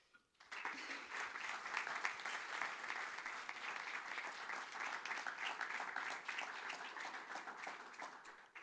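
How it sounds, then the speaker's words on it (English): Sustained applause from a conference audience for its panel of speakers, steady and dense for about eight seconds before thinning slightly at the end, heard alone without any talking over it. "I invite you to give a big round of applause to our speakers"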